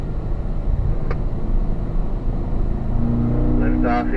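Race car engine on a training session at Spring Mountain, droning steadily and loud as the driver lifts off the throttle, a tone shift near the end, with someone talking over it.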